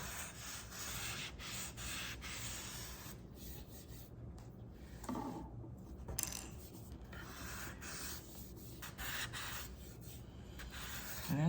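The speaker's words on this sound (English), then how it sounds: "finish it off with some 220 grit sandpaper. Just very gently, just give it a quick sanding here so it's nice and smooth." Hand sanding of cured epoxy resin drips on the underside of a lazy Susan with 220 grit sandpaper, a soft continuous rubbing rasp in steady strokes with brief pauses, close and quiet.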